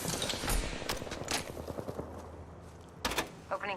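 Bursts of video game gunfire from a G7 Scout and other weapons in an online shooter, several short cracking volleys spread through the moment, moderately loud, with no talk over them.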